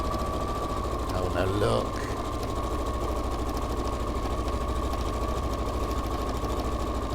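A sewing machine stitches with a steady, fast mechanical whir and rapid rhythmic needle clatter running throughout, close and prominent, with a brief spoken exclamation near the start.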